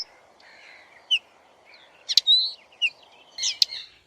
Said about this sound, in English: Linnet.